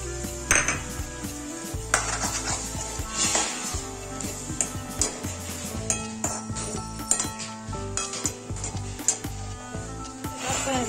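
Leftover potato curry (aloo sabzi) being stirred and mixed in a pan, a spoon scraping and clinking against the metal in steady irregular strokes over a faint sizzle, close and clear with no talk.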